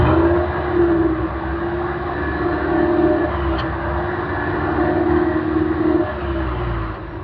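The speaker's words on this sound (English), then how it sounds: "As always, here is that exhaust clip." A 2025 Toyota RAV4 Hybrid gives off a steady, low exhaust drone, as if idling, recorded close and alone for the whole stretch with no rise in pitch.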